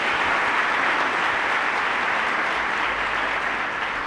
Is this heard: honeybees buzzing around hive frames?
no